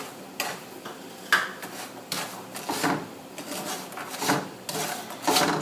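A spoon stirs halved toasted pecans into a sugar and brown butter toffee mixture in a bowl, giving scattered soft clinks and scrapes at an irregular pace, close and fairly quiet, with no talking.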